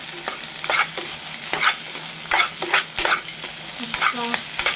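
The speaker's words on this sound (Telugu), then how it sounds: "కొంచెం అల్లం వెల్లుల్లి పేస్ట్ వేసుకుందాం. దాంతోనే ఇప్పుడు కరివేపాకు వేసుకుందాం కొంచెం. ఇప్పుడు దీన్ని బాగా మిక్స్ చేసుకుందాం" Ginger garlic paste and curry leaves frying in a pan for egg fried rice, stirred with repeated scraping strokes over a steady close sizzle, no talking.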